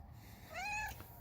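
A single short, close cat meow rises and falls in a quiet indoor room, with a faint low hum underneath.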